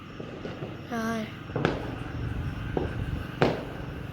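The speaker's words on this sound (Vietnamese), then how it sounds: "Bây giờ là đang bắn pháo hoa các bạn." Fireworks set off around New Year's Eve 2021 in Vietnam: a few sharp distant bangs and cracks spread irregularly, with a brief rising whistling tone early on.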